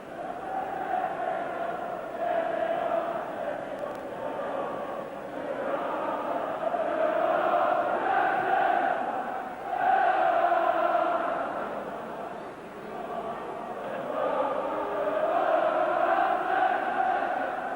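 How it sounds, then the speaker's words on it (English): Manchester United supporters chanting in unison in a football stadium, a broad, distant crowd song rising and falling in waves, with brief swells of louder singing. "Manchester United fans singing "You've been outclassed.""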